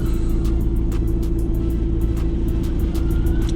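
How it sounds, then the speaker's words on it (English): A car engine runs steadily during a driving test, a continuous low hum with a faint repeating ticking above it, held at an even level throughout with no voices. "let's start the engine"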